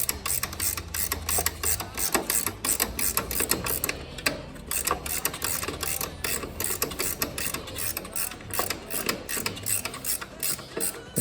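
A ratchet with a 13 millimeter socket tightens a nut during a clutch install, rapid continuous metallic clicking of the pawl with a few brief pauses, close and loud throughout.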